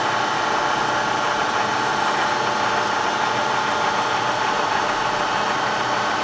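Bridgeport EZ-TRAK CNC vertical mill with DX controller running Z-axis pecking passes, giving a steady, dense mechanical whir and grind close by that keeps a constant level throughout, with no voices.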